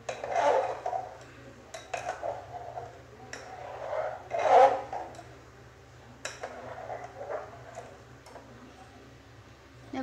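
A spoon scrapes and rubs against the bottom of a pot of rice kheer in repeated bursts while stirring, with soft clinks over a low steady hum of the stove.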